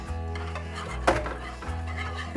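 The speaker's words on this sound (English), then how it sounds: "stir it until it melts." A spoon stirs shredded cheese melting into a roux in a pot, with soft scraping and a brief metallic clink against the pot, close and alone.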